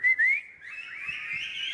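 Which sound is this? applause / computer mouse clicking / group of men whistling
group of men whistling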